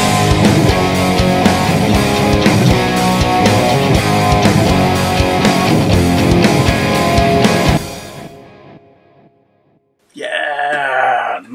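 A guitar amp captured by eight microphones that are not phase aligned gives a loud, thick rock guitar tone that plays steadily for about eight seconds, cuts to silence, then returns as a short wavering burst near the end.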